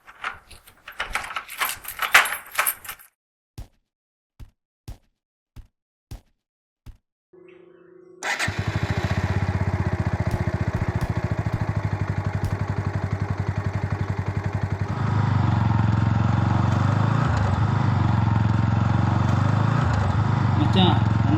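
A motorcycle engine starts after a burst of jangling keys and several clicks, then idles loud and close with a steady throbbing rumble that rises in intensity partway through, running continuously to the end.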